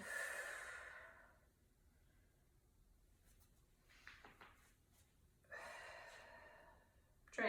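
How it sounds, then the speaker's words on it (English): Deep, audible breaths during a full-body warmup, a few slow airy exhales spaced out over several seconds, close and soft. "Trying to breathe loud enough that you can hear, but nice deep breaths"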